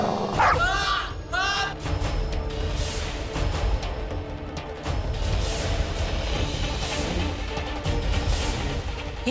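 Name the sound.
dog barking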